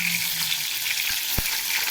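Steady, close sizzle of eggplant and potato frying in oil in a pan, with one sharp knock of a utensil midway and faint stirring.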